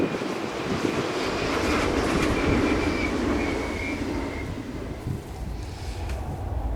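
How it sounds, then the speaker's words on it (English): A train rolls past on nearby tracks outdoors, a close, sustained rumble with rhythmic clickety-clack of wheels and a faint high squeal, gradually fading as it moves away. "Here comes another train."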